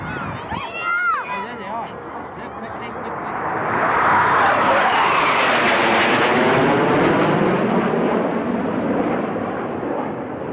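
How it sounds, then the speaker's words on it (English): A Tornado jet roars past, its engine noise building from a distant whine to a loud, broad rush before slowly easing off. "That was the sound of a tornado fly past."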